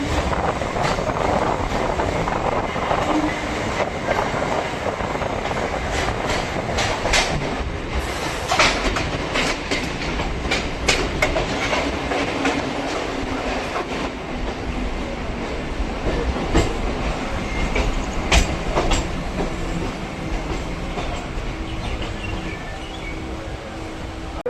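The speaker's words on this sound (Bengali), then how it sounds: "ট্রেন তার নির্ধারিত সময়ে স্টেশনে এসে প্রবেশ করেছে" A crowded Sealdah–Barrackpore galloping local train pulls into Barrackpore station, with steady loud rumbling, wheel clatter and rail clicks running throughout, plus brief squeals and bangs of the carriages.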